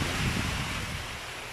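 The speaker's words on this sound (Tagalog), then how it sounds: "So, ulan na talaga guys. Lakas pa ng hangin." A steady roar of strong wind with a constant hiss of rain in Caceres, Cebu, loud and close, no voices.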